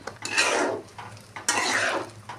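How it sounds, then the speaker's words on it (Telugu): Goat tripe being stirred in a metal pot with water, salt and turmeric: two close, loud swishing scrapes of a utensil against the pot, one after the other. "ఇలాగ ఒకసారి కలుపుకోవాలి"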